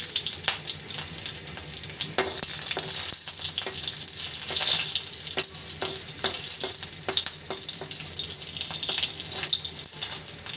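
Dry red chillies and garlic frying in mustard oil in a wok, a loud continuous sizzle broken by sharp crackles and pops throughout.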